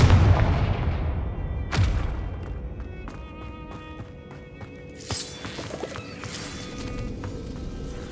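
Video game Hogwarts Legacy: a Confringo explosive spell lands with a deep, loud boom and a sharp crack, followed by a ringing magical shimmer and scattered lighter impacts that fade.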